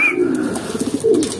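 Racing pigeon of Louis Chu–Vandenbroek bloodline cooing at a loft during summer training, a low throaty warble rising and falling in several soft pulses, close by with faint background noise.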